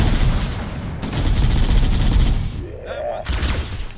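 Heavy gunfire in Halo: Combat Evolved aimed at Hunters, a loud dense barrage of shots with a short lull and a rising whine before firing resumes, with a voice talking over the action.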